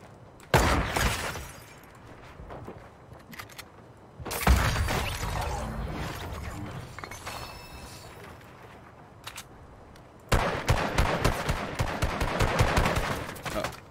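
Gunshots in a video game, several loud bursts of close fire with a sharp breaking crack, separated by quieter stretches, and a voice talks at times between them.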